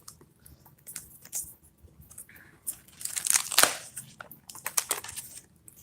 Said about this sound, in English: I guess I'll flip through this real quick.